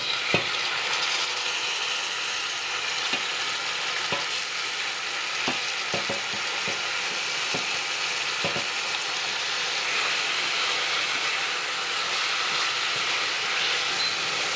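Salmon pieces stirred and frying in a hot pan, a steady hiss of sizzling with scattered clicks and scrapes of a utensil, close and without voices.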